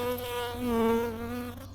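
Honeybees hum steadily and loudly during a hive inspection. The tone is a constant close drone that rises and dips slightly in pitch as they move near.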